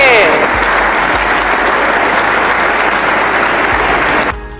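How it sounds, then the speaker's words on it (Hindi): Loud, dense applause from a crowd welcoming a farmer leader at an event in Barabanki, a steady continuous roar of many hands that cuts off abruptly near the end. "आशु चौधरी का जोरदार तालियों से स्वागत करें"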